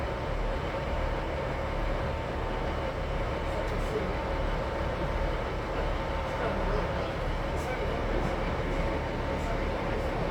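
An LNER train bound for Morpeth rolls along in a steady, dense carriage rumble heard from inside, with a constant hum and no breaks throughout.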